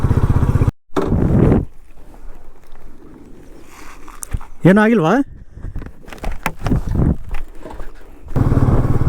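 Solo motorcycle ride on a rough, broken road through a forest on the way from Bangalore to Dharmasthala. Loud, close engine rumble opens and closes the stretch, with someone talking over quieter riding noise in between.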